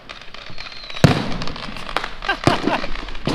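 Illegal aerial fireworks burst over Hawaii, heard from a rooftop: one loud sharp bang, then several more scattered pops and crackles at irregular intervals over a steady background hiss.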